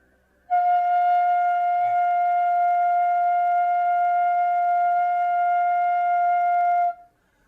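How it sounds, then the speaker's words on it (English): A bansuri flute held and blown by a beginner, sounding one clear, steady sustained note for about six seconds with a clean start and end, close and alone without breathiness. "just hold the flute and produce the sound like this."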